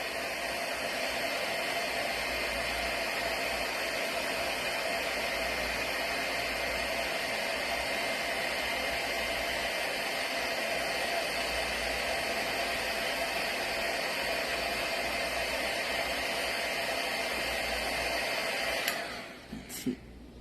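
A heat tool blows hot air onto a Christmas craft project in a steady, loud, unbroken whoosh that holds for most of the clip before cutting off near the end with a few small clicks.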